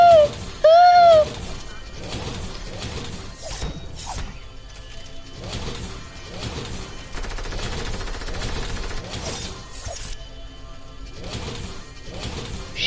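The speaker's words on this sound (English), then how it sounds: "Shots fired." Rapid mechanical clicking and rattling bursts of gunfire crackle repeatedly, close and loud, with a brief tonal chirp near the start and faint voices underneath.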